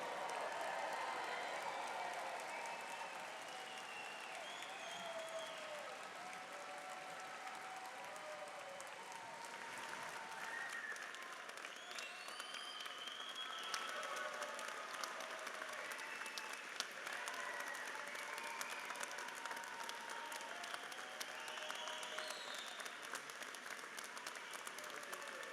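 Thunderous applause for graduates at a University of Guelph convocation fills a large hall, with dense, sustained clapping and a few cheers running steadily throughout.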